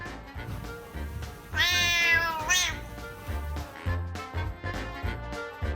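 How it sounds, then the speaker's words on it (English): A cat meows loudly and close up: a string of short meows around one long, drawn-out wail. "Learn the way this cat says no."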